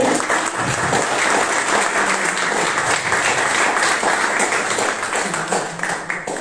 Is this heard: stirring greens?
no